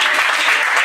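A church congregation applauds together, a steady, dense wash of clapping hands filling the whole moment without pause.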